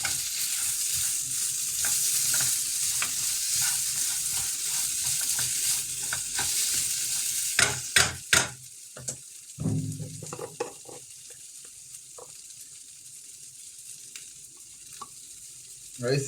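Crab curry seasoned with pepper powder being stirred in a pan, a steady sizzle with scraping spoon strokes, busier in the first half and then thinning to sparse clinks and quieter frying.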